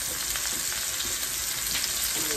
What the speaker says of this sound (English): I'm going to drop my mushrooms because I want those to cook and get beautiful.